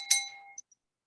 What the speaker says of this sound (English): hit the bell for notification,